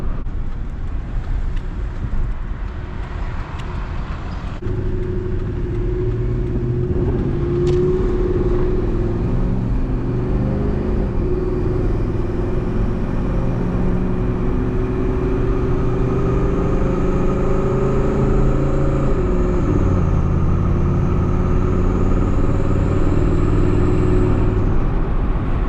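Engine of a turbocharged Ford F150 with a built block, driven gently while warming up and breaking in, a steady low drone with shifting pitch through gear changes, continuous and fairly close.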